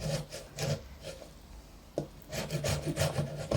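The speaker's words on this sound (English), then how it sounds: "So now we see Dedushka starts grating" Beetroot is grated by hand for a salad, with steady rasping strokes in an even back-and-forth rhythm, close and fairly soft, with a brief pause midway before the scraping resumes.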